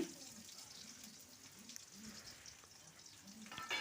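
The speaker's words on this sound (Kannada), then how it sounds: "ಈರುಳ್ಳಿನ ಫ್ರೈ ಮಾಡ್ಕೊಳ್ತಾ ಇದ್ದೀನಿ" Finely chopped onions frying in a few spoons of hot oil, a faint, steady sizzling hiss with occasional soft stirring, fairly distant and quiet throughout.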